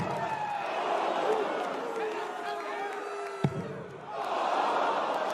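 The crowd at the 2023 New Zealand Darts Masters in Hamilton cheers and chants in a loud, continuous roar that dips briefly before surging again, with a commentator talking over it.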